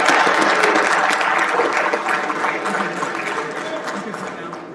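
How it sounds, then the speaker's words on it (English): Audience applause for a football recruit on an official visit to Oklahoma, a dense, steady roar of many hands clapping at close range that slowly tapers over several seconds, with a few cheers mixed in. "let's give him a round of applause"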